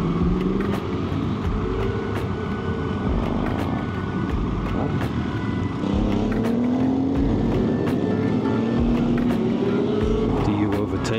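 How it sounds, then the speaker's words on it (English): A group of motorcycles rides past on the road, engines droning and rising in pitch as they close in, loud and steady throughout with a rider's camera in the middle of the pack. "I've clearly hit a group of motorcycles."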